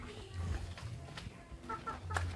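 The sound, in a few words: chickens clucking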